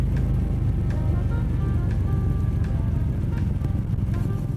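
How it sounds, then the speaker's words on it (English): A car's exhaust rumbles steadily at close range, a dense low drone that stays loud and continuous throughout, with light rattling texture above it and no voices. "Now, you can actually hear the exhaust or the ASMR."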